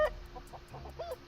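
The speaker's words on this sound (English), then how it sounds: "I don't see a chicken, but I hear a chicken." A chicken clucks in a survival video game, a series of short soft clucks in an uneven rhythm, moderately close and alone.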